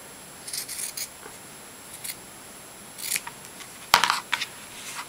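Scissors snip through sock fabric in several short, crisp cuts separated by pauses, close and clear in a quiet room.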